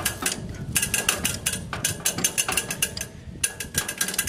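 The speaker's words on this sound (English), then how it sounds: "You note this bed here moves back and forth as I turn the wheel." Wheel of a 1918 John Deere Hoover potato planter turned by hand, its bed shaking back and forth, giving rapid rhythmic ratcheting and clacking gear noise, loud and close, with a short pause midway.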